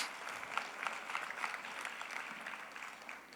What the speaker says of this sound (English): Guys, they really deserve a great round of applause.